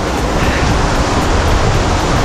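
A waterfall near Armenia, Colombia pours into a pool, a dense, steady roar of rushing water, loud and close, with no voices.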